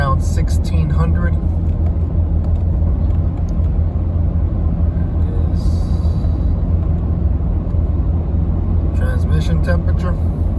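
A Ford Raptor pickup cruises at 65 mph with the engine steady near 1600 rpm. A constant low road-and-engine rumble fills the cabin, and a person talks over it.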